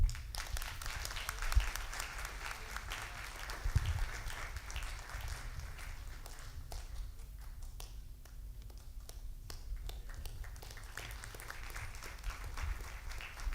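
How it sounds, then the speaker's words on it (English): An assembly audience claps steadily throughout, a faint, distant patter of many hands with scattered sharper individual claps, continuing evenly without talk. "So could we all clap for them?"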